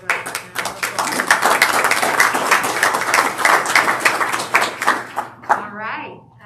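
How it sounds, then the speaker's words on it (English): Applause for staff at a board of education meeting: a small group claps steadily for about five seconds, close and moderately loud, with voices murmuring underneath before it tapers off. "you guys deserve a round of applause"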